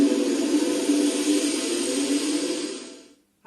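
Recorded motorcycle engine played as a sound-guessing game for children, a steady, loud droning rumble holding for about three seconds before cutting off abruptly.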